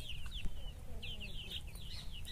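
Chickens on a farm, a hen with her brood of chicks and a rooster, make soft clucks and a run of high chick peeps, close by and fairly quiet.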